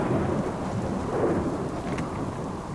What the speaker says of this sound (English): Gotta be careful with this storm